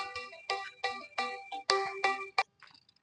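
A phone ringtone chimes in a quick run of repeated melodic bursts, close and clear, then cuts off into near silence.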